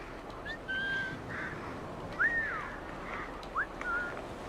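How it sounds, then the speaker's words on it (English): Whistle calls in the video game Assassin's Creed 3 sound over a hissing ambient background: three short rising-and-falling whistled phrases, spaced out and clearly in front. "I've actually learned how to do that whistle"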